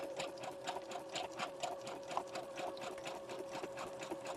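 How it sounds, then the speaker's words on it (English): A sewing machine back stitching through a paper grocery bag junk journal page, a steady close motor hum with rapid even needle pulses throughout, no talk. "So just go ahead and back stitch a little bit, and then off we go."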